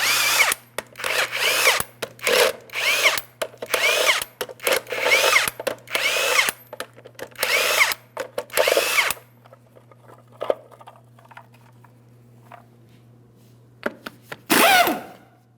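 An impact power tool spinning off the 22mm lug nuts from a GMC Sierra 2500 HD wheel: loud repeated bursts of buzzing rattle, about a second each, then a quieter gap and one final burst.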